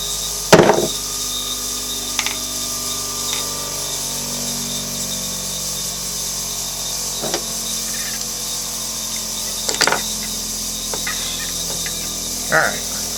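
A small jewelry burr cuts a seat for a four-prong head holding a 1.66-carat diamond, giving short scattered whirring and grinding bursts over a steady background hum.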